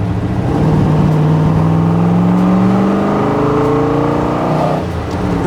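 A 1967 Corvette C2 with a Tri-Power 427 big block V8 accelerating hard, a loud, deep engine roar rising steadily in pitch through a long pull, close and dominant without speech.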